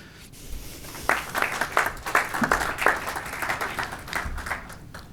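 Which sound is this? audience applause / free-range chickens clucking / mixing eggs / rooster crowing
audience applause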